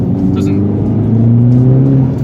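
A turbocharged 220 bhp Mini Cooper S engine drones loudly at steady revs, its pitch climbing slightly while a voice speaks briefly.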